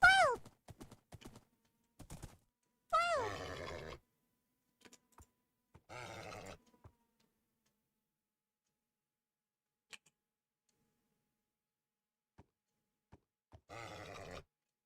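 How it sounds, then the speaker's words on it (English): Horse in Minecraft making several short bursts of whinnying and snorting, spread out with long silent gaps, fairly close and clear, plus a few faint clicks. "Wait, there's a horse over here the whole time?"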